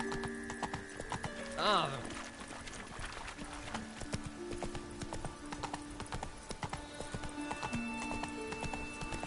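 Roach, the horse in The Witcher 3 video game, trotting with rapid rhythmic hoof clip-clops and a brief whinny early on, amid game music, with a short shout from a man.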